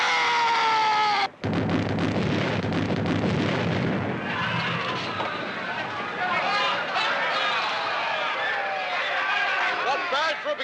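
Ship's cannons fire in a film sea battle, a loud burst after a sudden cut, followed by rumbling blasts and shouting voices over a busy, noisy scene.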